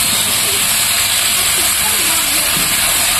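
Boiled potatoes and jackfruit hit a hot pan of fried spices for jackfruit-prawn curry, giving a steady, loud broadband sizzle and hiss throughout.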